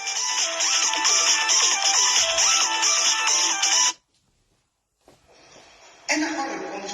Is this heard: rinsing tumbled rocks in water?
no